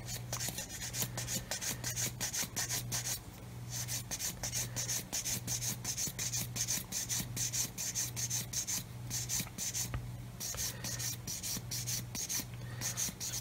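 Rough rhythmic rasping of a hard sanding stick worked back and forth across a concave plastic part of a Tamiya 1/16 RC Sherman tank model, steady close strokes continuing alone throughout.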